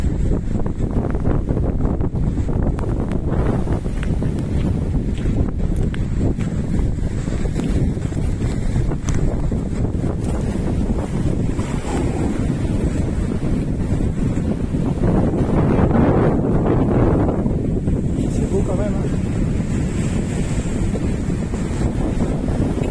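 Wind buffets the microphone in a constant low roar at Plage des Dunes beach in Talmont-Saint-Hilaire in late November, with surf washing underneath and swelling near the middle. There is no speech.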